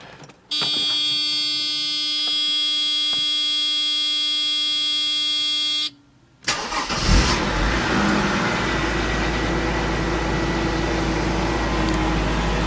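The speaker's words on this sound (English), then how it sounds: "let's go ahead and fire her up" A steady electronic warning tone sounds first, then a Mercedes W202 C36 AMG engine, just fitted with a new fuel filter and fuel pressure regulator, cranks, catches and settles into a loud, continuous idle close by.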